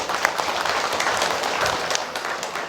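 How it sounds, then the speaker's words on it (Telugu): An audience gives sustained, loud, dense clapping to welcome Sunita Williams after her safe return to Earth from space; the applause stays steady throughout. "సో ఆమెకి ఇంకొకసారి గట్టిగా చప్పట్లు"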